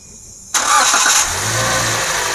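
Toyota Grand New Avanza with a 1NR-VE engine, previously showing an odd noise, cranks and fires up abruptly after a moment of quiet, surges loudly, then settles into a steady close idle.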